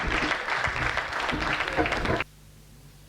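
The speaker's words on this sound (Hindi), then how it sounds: "जोरदार तालियों से स्वागत करिए" An audience at a poetry and song gathering claps loudly to welcome a performer, the applause running for about two seconds before cutting off abruptly into near silence.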